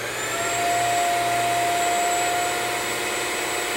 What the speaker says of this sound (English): turn it on for the very first time and just see how loud it is